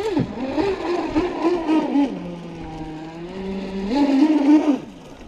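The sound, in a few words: Kyosho Wave Chopper RC boat with brushless motor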